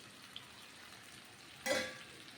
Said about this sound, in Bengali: সাদা জিরে তেজপাতা দিয়ে দেবো ফোড়নে